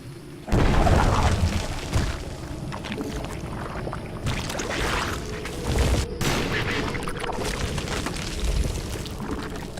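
An infested Terran structure blows up in StarCraft II: Heart of the Swarm, a loud rumbling explosion followed by several more booms and crackling blasts in a dense battle din.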